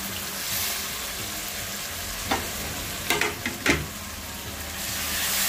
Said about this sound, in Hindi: इसको अच्छा टमाटर को अच्छा भून लेंगे